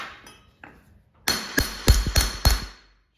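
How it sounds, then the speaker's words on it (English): A hammer strikes a metal part of a rebuilt arcade power brick for a Tapper machine, several sharp, loud metallic blows close up, the last ones in quick succession, after a quiet stretch. "basically I'm just going to take my hammer here and just"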